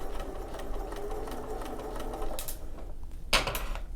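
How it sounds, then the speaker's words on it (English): A sewing machine runs steadily, stitching binding onto tricky fabric with a running stitch; a close, continuous mechanical whir with a couple of brief louder clicks near the end, no talking. "now I'm just going to sew it on with a running stitch"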